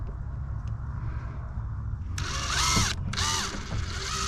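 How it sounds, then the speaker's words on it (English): Power drill boring pilot holes while building out a food trailer, a faint low hum giving way to two loud, close whirring bursts with a brief pause between. "we're going to pilot drill these holes here"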